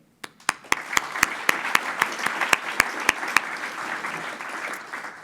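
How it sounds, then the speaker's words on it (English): Audience applause at a data and digital infrastructure conference, ReBuilding Nations 2020, opening with a few sharp single claps that quickly swell into steady, dense clapping from a room full of people. "Please join me in a round of applause for all of our outstanding speakers and panellists."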